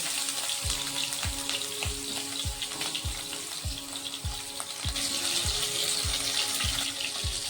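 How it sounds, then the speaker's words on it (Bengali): Rohu fish pieces frying in hot oil in a wok give a dense, close sizzle broken by regular sharp spatter pops and a few light utensil knocks, with no one talking. "তেল গরম হয়ে গেছে, এখন মাছগুলো ভেজে নেব।"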